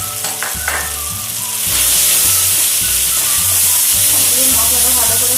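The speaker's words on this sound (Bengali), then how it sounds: "মশলাটা ভালো করে কষিয়ে নেব" Spices for aloo dum, Kashmiri and dried chilli powder with sugar, fry in a pan, a loud close sizzle that swells after a short quieter start, with stirring scrapes throughout and no speech.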